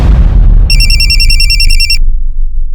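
A telephone rings for a call from a pizza outlet: one burst of bright, rapidly trilling electronic ringing lasting about a second, over a heavy low rumble that fades away afterward.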